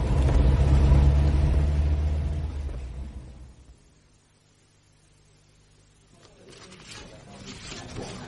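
Road traffic rumbles loudly near a traffic island, a heavy vehicle passing close then fading away to near quiet before a fainter vehicle sound rises again at the end.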